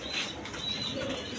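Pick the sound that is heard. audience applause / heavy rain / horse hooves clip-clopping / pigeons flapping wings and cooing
pigeons flapping wings and cooing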